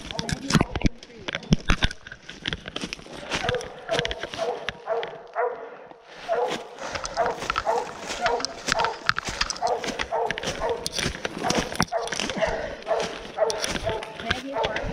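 Out in the woods on a hunt, a hound bays steadily at an animal up a tree, its repeated barks rising over constant rustling and footsteps, with a person talking nearby.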